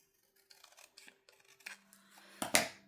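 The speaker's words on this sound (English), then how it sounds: "I think I need to trim just a hair off of this." Scissors snip a small piece off handmade craft paper, a few short close cuts building to a louder sharp snip near the end, with quiet handling rustles between.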